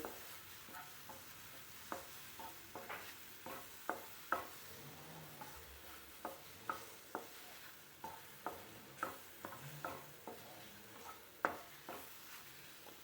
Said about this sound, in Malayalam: അത് നല്ലോണം വഴറ്റിയെടുക്കും പഴം വഴഞ്ച് വന്നിട്ടുണ്ട്